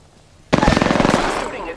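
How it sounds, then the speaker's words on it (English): Rapid automatic gunfire in the battle royale game Apex Legends erupts after a quiet moment and keeps hammering as a dense, loud burst for over a second, with faint voice chatter underneath. "I'm taking fire."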